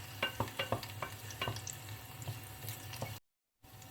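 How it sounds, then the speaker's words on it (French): Onions and garlic softening in a pan, sizzling steadily with rapid crackles and clicking stirs, close and quiet, then cutting to brief silence before the sizzle resumes. "On va juste faire ramollir légèrement les oignons, l'ail"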